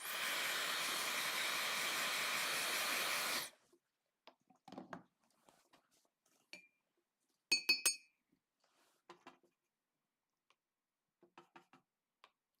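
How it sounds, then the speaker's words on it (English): A blow dryer drying paint on a portrait painting, a steady loud hiss of air for about three and a half seconds that then cuts off, followed by scattered quiet clinks and taps. "And blow dryer."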